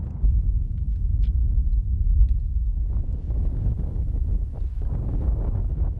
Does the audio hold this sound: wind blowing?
yes